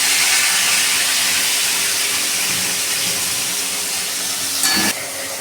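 Tomatoes go into hot oil with frying cardamom and cloves, giving a loud, continuous close hiss and sizzle that holds steady before easing off slightly near the end.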